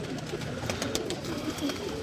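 Pigeons coo softly over a steady background murmur, with brief repeated low calls recurring through the short stretch at moderate, fairly close level.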